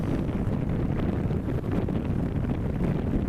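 Steady wind buffets the microphone with a low, rushing roar, a sailboat moving under sail with water noise blended beneath, constant and close.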